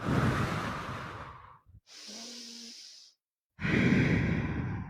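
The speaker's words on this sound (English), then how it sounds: "Breath in and out." A person breathes in and out during a power yoga class: a long, audible exhale, a short pause, a softer breath, then another loud, close breath, with no talking.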